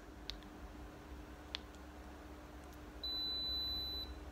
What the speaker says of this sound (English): That beep is the reading being sent from the probe to the meter